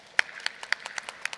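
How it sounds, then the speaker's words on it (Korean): Brief scattered clapping from a conference audience welcoming a speaker onto stage, a handful of sharp separate claps, fairly faint and thin, fading within a second or so. "박수로 환영해 주시기 바랍니다"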